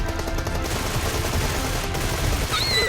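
Sustained automatic gunfire fills a PUBG Mobile firefight, a dense loud barrage of rapid shots with continuous rattling bursts and a few sharp whizzing tones near the end.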